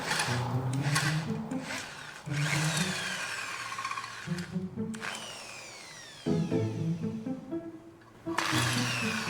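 A drill bores into an aluminium luggage rack being fitted to a Honda CRF300L motorcycle. Close whining bursts start and stop several times, with short pauses between them and no voices.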